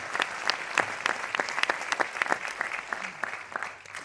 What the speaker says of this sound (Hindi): ये आगे बढ़ते हुए एक बार फिर से बड़े भैया के लिए जोरदार तालियां हो जाए भाई।